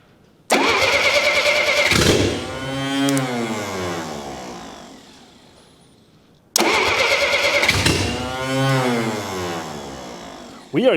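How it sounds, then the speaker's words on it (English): An old Dodge engine cranks, catches and runs briefly twice, each attempt starting abruptly loud, then sputtering and winding down into quiet between tries. "let's see if we can get this running long enough to get some fuel up into that bowl"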